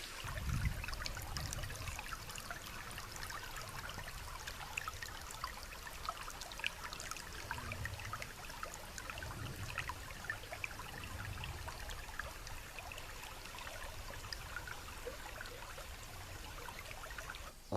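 A small river flows beside a solo bivouac camp near a waterfall, giving a steady, soft broadband rush of water that runs continuously and fairly faint, with no voices.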